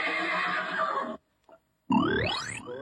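A horse gives one loud, close whinny that rises and then falls, breaking in after a brief silence that follows a dense, continuous stretch of other sound.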